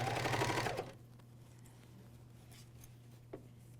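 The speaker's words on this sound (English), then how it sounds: "And off to the serger I go" A MyLock 454D serger sews a pajama cuff seam with a short, dense, close whir that stops within a second. A low steady hum and faint handling noises follow.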